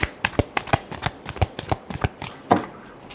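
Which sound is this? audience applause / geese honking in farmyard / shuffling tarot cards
shuffling tarot cards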